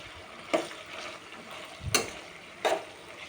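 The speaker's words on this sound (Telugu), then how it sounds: "సిమ్లో పెట్టేసి వేగనివ్వాలి." Pieces of ivy gourd (tindora) fry on a low flame with a soft, steady sizzle, broken by three sharp stirring scrapes spaced about a second apart.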